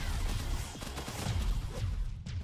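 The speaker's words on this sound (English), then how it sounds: "that jam cannon is really fast" Rapid jam cannon fire from the battle game One Step From Eden forms a dense, continuous crackling barrage of overlapping shots throughout.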